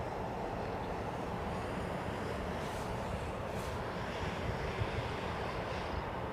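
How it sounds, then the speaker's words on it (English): A big Qatar jet airliner leaves the gate with a steady, broad engine roar that holds at an even level throughout, heard from a distance, with no voices. "Big old Qatar jet going out now."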